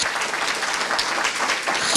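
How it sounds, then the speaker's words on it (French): A congregation at a French-language church service applauds, a dense, continuous burst of clapping in a reverberant hall with no talk over it. "Applaudissons le Seigneur."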